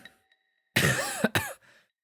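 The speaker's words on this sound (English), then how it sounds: "really want this cough to go away" A single person coughs twice in quick succession with a rough throat-clearing edge, close and fairly loud, bracketed by near silence and a faint electronic beep before.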